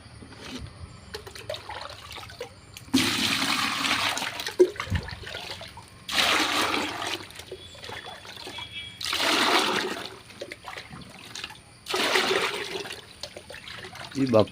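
Rice water for an organic fertilizer slurry is poured from a large cup into a 20-litre bucket in four separate splashing pours of a few seconds each, close and loud, with quieter gaps and a voice speaking between them.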